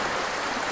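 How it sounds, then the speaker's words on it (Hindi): A steady, full rush of a flowing stream, continuous and close, with no voices. "बहता हुआ पानी"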